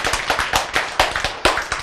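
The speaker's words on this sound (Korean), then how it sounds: "박수." Short burst of clapping in a classroom, a few claps in an irregular rhythm lasting under two seconds, fairly close and with no talk over it.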